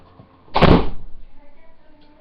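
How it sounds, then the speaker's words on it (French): A door swings open in one loud rushing burst that fades over about half a second, followed by a faint, low room rumble. "j'ai fermé ma fenêtre et c'est ma porte qui s'ouvre."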